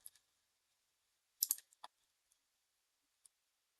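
A few faint, sharp computer mouse clicks on a quiet desk, a brief cluster of taps followed by scattered single ticks.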